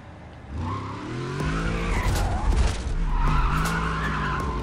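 Audi S5 racing in the Need for Speed Undercover video game, engine roaring as it accelerates while tires squeal and skid loudly, sliding through a turn.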